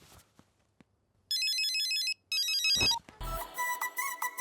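A telephone ringing for an incoming call, two bursts of bright electronic trilling ring followed by clattery handset noise.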